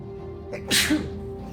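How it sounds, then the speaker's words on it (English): A single sharp sneeze bursts out close to the microphone, preceded by a brief intake of breath, over a quiet steady hum. "Uh-oh, I'm gonna sneeze."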